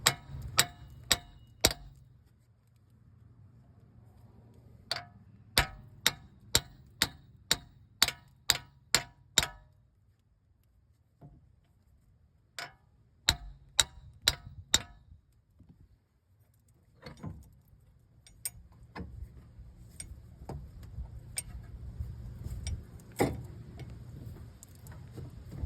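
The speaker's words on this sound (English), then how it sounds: "I should be able to smack the end of this a few times and get it to come out the whole way" Sharp metallic hammer blows on the end of a front axle CV shaft on a 2013 GMC Yukon, struck in quick bursts of several hits separated by pauses, then lighter knocks and shuffling work noise.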